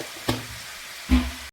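Turmeric powder dropped into hot oil in a pan gives a soft, steady sizzle, with two brief knocks of a spoon against the pan a short moment apart, close by and fairly quiet.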